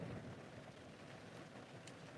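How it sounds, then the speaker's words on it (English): Heavy rain pours down in a steady, faint, broadband hiss with a low rumble, continuous and without talk. "raining like cats and dogs"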